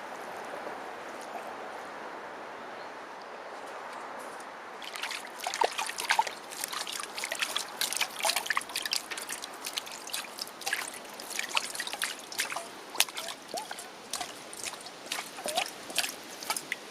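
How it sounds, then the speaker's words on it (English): Compost tea poured from a watering can onto garden plants, splashing and trickling steadily into wet soil after a few quiet seconds, close and continuous with an uneven dribbling rhythm. "I'll water here and just know that it's going to run down."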